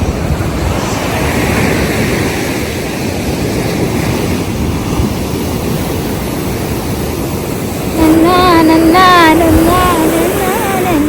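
Steady broadband wash of surf with wind noise on the microphone; toward the end a voice speaks close over the rushing waves.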